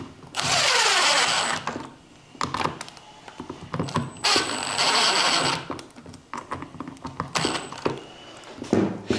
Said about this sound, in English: All the screws in the steering wheel are Torx T20. We'll torque these up by hand.